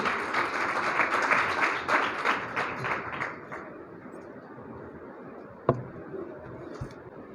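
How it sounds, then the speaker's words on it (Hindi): Applause from a congregation at a Hindi-Urdu Christian gathering, a dense clatter of many hands that fades over the first few seconds, followed by quieter room noise and a single sharp knock. "ज़ोरदार तालियां उनके लिए।"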